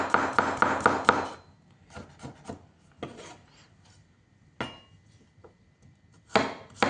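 A knife chops garlic coarsely on a board: a quick burst of five or six crisp, close strikes, then scattered single chops and short clusters with pauses, no voices.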